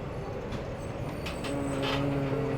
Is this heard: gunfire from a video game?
no